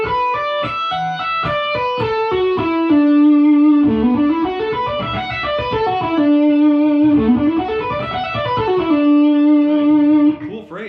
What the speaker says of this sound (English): I'm really just picking every time I change strings, and then you're doing a hammer-on or a pull-off